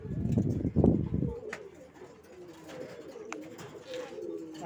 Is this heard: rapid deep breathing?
no